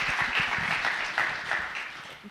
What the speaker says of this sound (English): a round of applause for you guys for sure